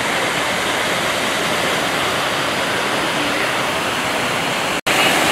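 Waterfall inside the elephant enclosure at Fort Worth Zoo, a steady close roar of falling water that fills the whole clip without change, with one brief dropout near the end.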